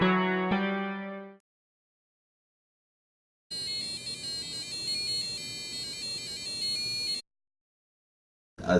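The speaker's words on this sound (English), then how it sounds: "a buzzer that played lovely music while the game was playing" A cheap piezo buzzer in a homemade arcade machine plays a tinny electronic tune: a short burst of tones fades out, silence follows, then a longer shrill melodic passage and a brief final snippet, with no talk.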